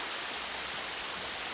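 Steady broadband rush of a waterfall pouring in the Car Parking 2 video game, an even, continuous hiss of falling water with no pauses or other sounds.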